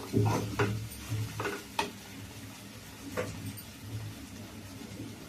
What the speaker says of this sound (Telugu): ఇప్పుడు బెండకాయ ఫ్రై వేగుతుంది.